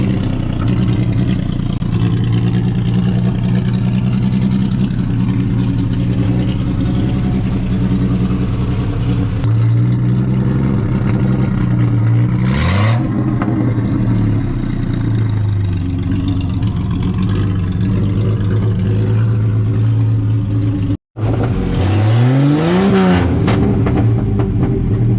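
A Triumph TR250 engine, freshly revived after 40 years of sitting, idles and revs while its carburetors are tuned, with a steady close-up drone, two sharp throttle blips, and a brief dropout before the second.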